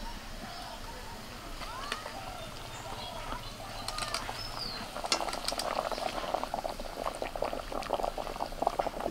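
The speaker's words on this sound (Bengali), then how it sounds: "মশলাটা ফুটে উঠেছে" Spice paste thinned with a little water bubbles in a pan, soft close boiling pops that grow busier and louder in the second half, with faint background sounds.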